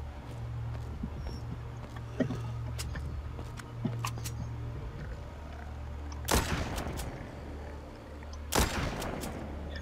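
Gunfire aimed at zombies in the Walking Zombie II shooter game, a few scattered sharp shots followed by two loud bursts, over a low humming background.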